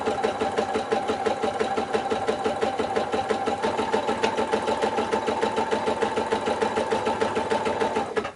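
A sewing machine quilts fabric with a single thread and a normal presser foot, running in one continuous rapid mechanical chatter at steady speed, close and loud throughout.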